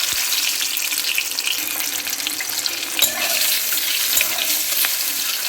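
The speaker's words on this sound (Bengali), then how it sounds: "এটাকে আমি এখন ভালো করে ভেজে নেব, লাল করে" Eggs rubbed with salt and turmeric fry in hot oil, giving a steady, dense sizzle that crackles throughout with a few sharper pops and no voices.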